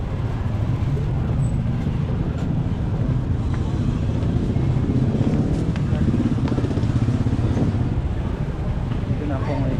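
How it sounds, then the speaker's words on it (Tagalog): Busy market street with motorized tricycles and other traffic passing close by, a constant rumble of small engines and road noise, with a person talking faintly over it. "Busy yung mga tricycle."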